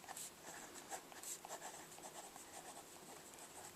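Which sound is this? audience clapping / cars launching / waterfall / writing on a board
writing on a board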